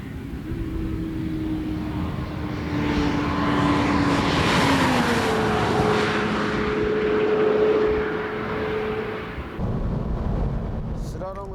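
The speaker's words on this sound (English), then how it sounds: "Let's see how the car reacts at full throttle without slalom." A Honda Integra Type R DC5 engine roars steadily at full throttle under strong wind noise, its pitch rising and shifting as it accelerates hard, loud and sustained before easing off near the end.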